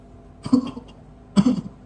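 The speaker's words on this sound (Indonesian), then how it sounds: "Batuk-batuk sih." Two short coughs, close and distinct, separated by a brief pause in an otherwise quiet room.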